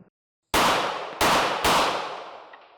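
Military Armament Corp 1014 shotgun fired three times outdoors: loud, close blasts, the first alone after a brief silence, then two in quicker succession, each trailing off in a long echoing decay.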